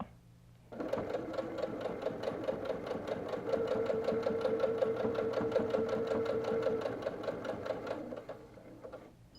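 Sewing machine stitching a quilted four-patch coaster: a close, steady mechanical whir with rapid rhythmic needle clatter that starts abruptly, runs for about eight seconds and then winds down.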